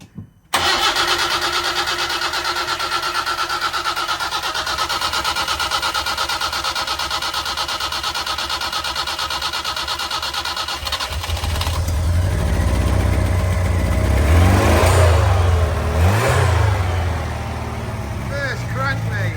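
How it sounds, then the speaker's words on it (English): An old Hillman Imp engine on full choke cranks with a steady whirring starter for about ten seconds, then catches and runs louder and rougher, with voices talking over it. "We're doing just full choke and cranking it."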